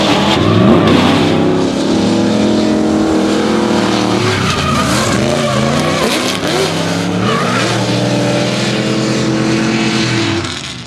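Drift cars in the D1NZ drifting championship at Christchurch, loud engines revving and wavering with continuous tire skidding and squeal, sustained and close throughout.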